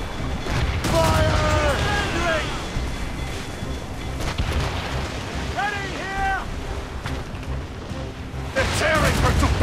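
Naval cannon fire from ships in Assassin's Creed Rogue, booming blasts mixed with crashing ocean waves and creaking boat ambience, with shouted voices and orders heard over the battle throughout.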